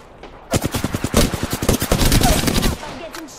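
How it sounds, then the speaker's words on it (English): Rapid automatic gunfire rattles in Apex Legends, a loud, close burst of evenly spaced shots lasting about two seconds, followed by quieter background noise. "I'm getting shot at."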